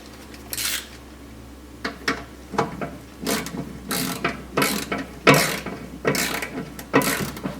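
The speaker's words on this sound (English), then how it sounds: "go ahead and start your bolts and let's pull it on up in there" Ratchet wrench tightening the oil pan bolts on a 1929 Ford Model A, with repeated close, loud bursts of rapid clicking separated by short pauses and no talking.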